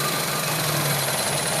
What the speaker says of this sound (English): I shall do a bit of revving and we'll see what happens.